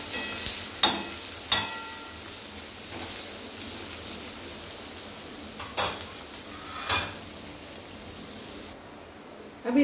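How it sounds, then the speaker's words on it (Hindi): Onions and green chillies being stirred in a frying pan for poha, a low sizzle under a few sharp scraping clinks of the spoon against the pan, fairly faint and without talk. "तब इसे हम चला लेते हैं।"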